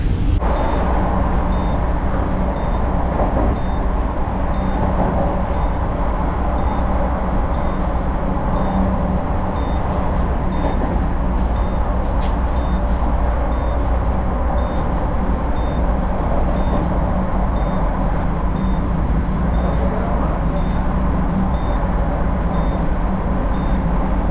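Vande Bharat express train running at speed between Howrah and Tarapith, a steady loud rumbling roar heard from inside with faint high tones over it, constant throughout with no talk.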